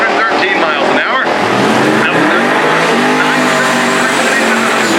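A supercharged drag race car accelerates hard down the strip at a drag week event, a loud, close, rising engine roar with tire squeal, while a commentator talks over it.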